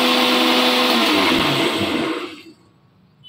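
A blender grinds a spice paste in a home kitchen, a loud steady whirring drone that runs for about two seconds before cutting off, leaving near silence.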